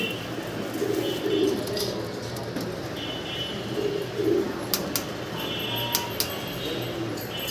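Cream-coloured German Beauty Homer pigeons at a fancy-pigeon farm, the male cooing in soft repeated low bursts close by, with a steady background hum and a few sharp higher chirps from other birds.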